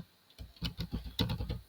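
A quick run of computer keyboard keystrokes while code is being written, about a dozen close, light clicks in an uneven rhythm.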